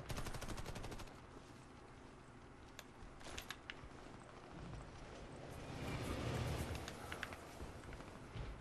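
Gunfire in the Xbox 360 shooter Warface, bursts of automatic rifle shots crackling at moderate level amid game ambience and footsteps, with no one talking.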